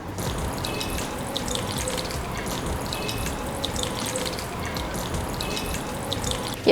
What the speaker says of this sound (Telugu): ఇత్తులు రాకుండా ఇలా స్టెయినర్తో పోసుకోండి.